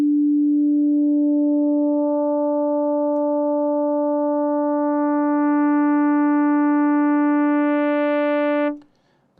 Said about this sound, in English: That's a wide range of tone just from 4 sine waves interacting with each other